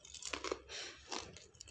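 Crunchy pani puri is bitten and chewed up close in a few quiet, crisp crunches with soft crackling between them.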